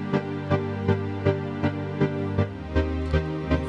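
A synth pad run through a side-chained gate in Pro Tools, chopped into a steady rhythmic stutter of about three pulses per second, sustained tones rising and falling on each beat, heard alone.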